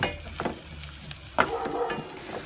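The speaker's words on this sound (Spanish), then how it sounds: "Vamos a dejar que nuestra cebolla se sofría un poco." Finely chopped onion fries in oil in a pan for a sofrito, sizzling steadily with soft scraping stirs and small crackles, close and fairly quiet.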